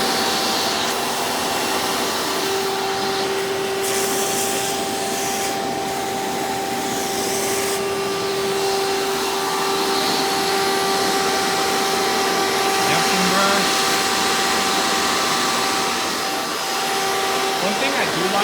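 A Hoover Encore Supreme U5059-930 upright vacuum cleaner runs with a loud, steady, close motor drone and whine that holds evenly throughout.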